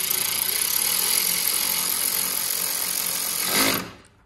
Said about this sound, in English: So Chris is going to stick a couple of bolts in.